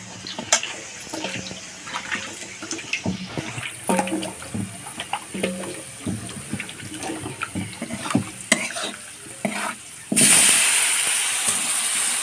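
Running tap water gushes steadily for the final couple of seconds, loud and close, after a stretch of kitchen clatter and light handling noises during vegetable cooking.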